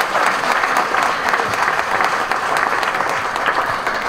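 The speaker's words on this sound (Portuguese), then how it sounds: "uma salva de palmas para ele" Loud, sustained applause from an audience at a Portuguese community Holy Spirit festival gathering, an even, dense wash of many hands clapping throughout.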